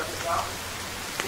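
Steady rain falls in the survival video game The Forest, a constant hiss of close drops on surfaces with a faint voice briefly heard.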